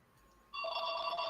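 An internet phone starts ringing after a quiet half second, a bright sustained electronic ring tone that continues to the end, fairly faint and alone.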